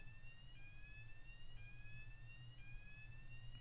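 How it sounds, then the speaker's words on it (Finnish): A fire alarm beeps steadily indoors, its high tone repeating about once a second, faint and distant under a low background hum. "Mä vähän veikkaan, että tämä on palohälytys"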